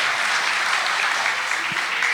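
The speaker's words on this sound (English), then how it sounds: "Give them a round of applause" A commencement crowd applauds graduates at Lone Star College-Tomball, a continuous, even roar of many hands clapping, heard from a distance and with no voices over it.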